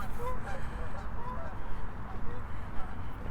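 Geese by a city lake give a few honks early on, then fade into steady outdoor background noise.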